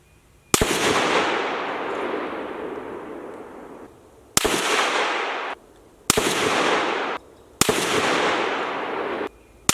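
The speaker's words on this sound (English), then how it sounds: "here is my 100 meter group shooting 168 grain Hornady match" An ADM UIC 10A rifle fires 168 grain Hornady match rounds at a 100 meter range, four loud, sharp reports at uneven intervals, each followed by a long decaying echo.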